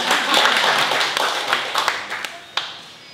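A seminar audience at a barangay development planning workshop claps together in a busy, sustained burst that gradually thins out, leaving a few scattered louder claps near the end.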